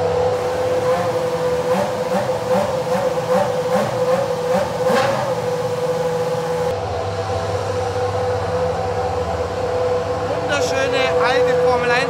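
Racing car engines idle and rev in the paddock at the Red Bull Ring, warming up before a session, with a loud steady drone, rising rev bursts and a shift in engine tone partway through, under speech.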